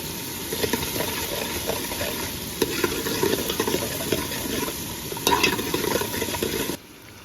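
Onions frying in oil in a pot, a continuous close sizzle broken by scraping stirs and a couple of louder knocks before it cuts off abruptly near the end.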